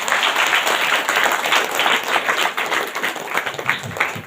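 Congregation in a church gives loud, sustained applause, dense clapping from many hands filling the room for several seconds with no gaps.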